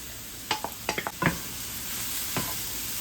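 Cooked turkey, poblano peppers and tomatoes cook in a pan under a low, steady sizzle, broken by a handful of sharp utensil clinks and scrapes early on and one more later.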